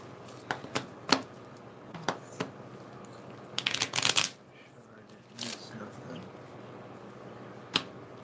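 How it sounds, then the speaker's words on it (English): A deck of cards being shuffled during a live psychic medium reading, heard as a string of sharp riffling bursts and clustered flutters with pauses between them, close and fairly quiet. "let me shuffle this good for Morgan"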